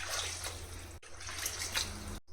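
Water being poured into a pan of fried vegetables for upma, a quiet continuous splashing rush with a brief break in the middle, then stopping abruptly.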